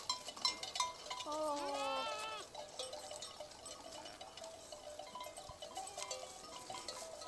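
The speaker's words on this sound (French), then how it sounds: "Non, non, non, ça c'est une brebis." A ewe on a sheep-breeding farm gives a loud, wavering bleat near the start, with scattered farmyard noise and people talking in the background.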